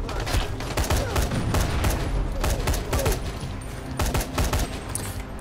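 Gunfire in Dying Light: The Following, with a loud, rapid run of shots arriving in several tight bursts and short gaps between them, close and dominant throughout.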